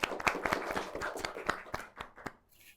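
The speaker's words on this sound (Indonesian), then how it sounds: "Tepuk tangan dong." A small group clapping in a podcast studio, a dozen or so distinct, fairly close claps that thin out and fade toward the end.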